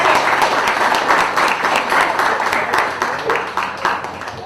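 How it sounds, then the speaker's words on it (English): Enthusiastic audience applause, dense steady clapping from a crowd that gradually tapers off. "Give a round of applause."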